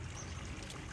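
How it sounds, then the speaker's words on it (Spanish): Water gushing steadily from a large leak in a potable water supply line at a well, a dense, constant broadband rush with no gaps. "vino a checar esta tremenda fuga del vital líquido"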